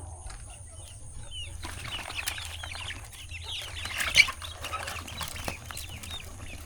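Chickens and ducks being let out in the morning cluck and chatter close by while wings flap in brief bursts, over a low steady hum in the background.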